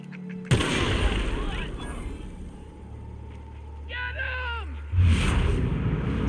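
Gunfire against marauders outside a cave in The Outer Worlds: a sharp loud shot opens, then a quieter stretch with a low hum and electronic sweeping tones, and another strong blast near the end.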